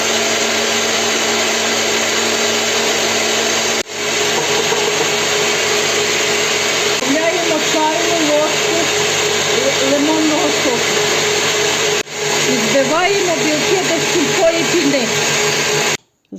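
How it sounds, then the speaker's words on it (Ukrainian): An electric mixer whipping four egg whites with a pinch of salt and sugar, a loud continuous motor whine with brief dips in speed, while someone talks over it. "Вливаємо сюди 4 білка, додаємо щіпку солі і збиваємо до рехлого снігу."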